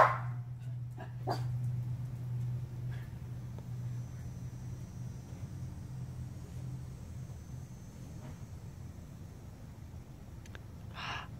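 A dog growls and gives a few short barks at a butterfly, faint and scattered over a low background hum, with long quiet stretches between the sounds.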